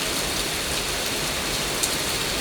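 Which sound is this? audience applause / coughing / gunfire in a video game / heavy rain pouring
heavy rain pouring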